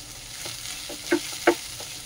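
Tomatoes fry in a pan with chillies, making a soft, steady hiss with two brief louder clinks from the pan, heard on their own.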